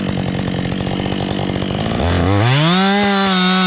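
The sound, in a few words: chainsaw cutting through a log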